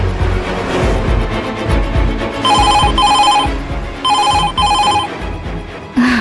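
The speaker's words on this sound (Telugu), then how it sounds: "రింగ్ అవుతుంది" A telephone rings on an outgoing call, with two paired bursts of electronic trilling over a rhythmic music backdrop, loud and close.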